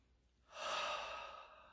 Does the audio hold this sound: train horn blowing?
no